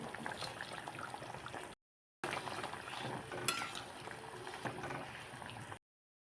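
Pieces of fried fish go into a gently simmering Bengali fish curry, giving soft bubbling and stirring with light sizzle, close and fairly quiet, broken by a short pause.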